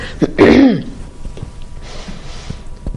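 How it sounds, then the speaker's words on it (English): One loud, harsh cough, close to the mic, followed by quiet room noise. "I am destined to cough."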